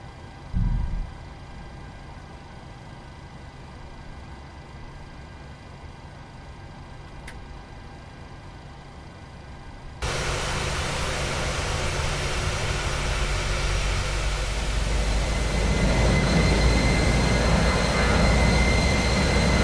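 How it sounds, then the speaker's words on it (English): A Boeing 737-800 engine spins up during start in Microsoft Flight Simulator: a quiet cockpit hum gives way to a sudden jump into a loud, steady rushing whine that keeps building over the next ten seconds. "Alright, starting engine 1."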